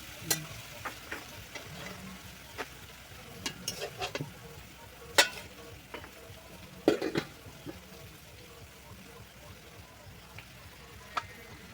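Lentils (dal) cooking in a pan, a low continuous sizzle broken by scattered scrapes and clinks of a stirring spoon, close and fairly quiet, growing sparser toward the end.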